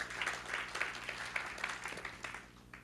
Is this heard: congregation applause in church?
yes